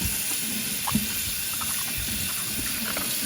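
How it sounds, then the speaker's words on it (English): Tap water runs steadily over bananas as they are washed in a sink, a constant close gush with a few faint knocks and splashes throughout. "make sure you wash your bananas really well"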